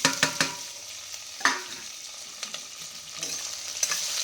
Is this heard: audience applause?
no